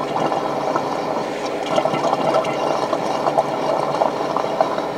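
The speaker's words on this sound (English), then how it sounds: "You can hear the water, and you will hear a distinct difference in the water coming through and then the air." A Floe 868 pump draining water from another device, a continuous gurgling churn of flowing water over a motor hum, close and steady without talk.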